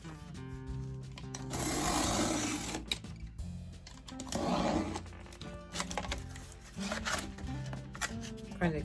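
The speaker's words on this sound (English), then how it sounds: "I'm just going to start trimming off the shortest part of the flap." Scissors or a blade working through saved cardboard box flaps, giving rough scraping, crunching cuts in several bursts close to the mic, with a person talking softly in between.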